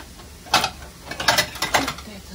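A hand-cranked meat grinder turns in a kitchen, giving a few short grinding, ratcheting bursts up close with pauses between turns.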